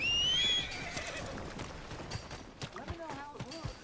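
A horse in Red Dead Redemption 2 gives a loud whinny at the start, then its hooves clip-clop along at a trot while a voice talks over the hoofbeats.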